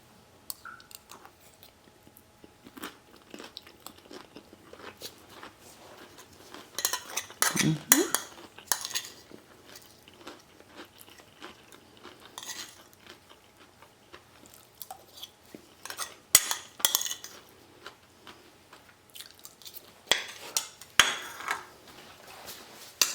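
Spoon scraping and clinking against a dish while the last bites of a broken homemade taco shell are eaten, with intermittent crunchy chewing and scattered metallic taps, close and irregular with no talking.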